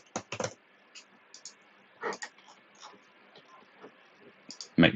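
Keys tapped on a computer keyboard while entering a search in Autodesk software, in short irregular bursts of quick clicks, close and fairly quiet, with a louder clatter at the end.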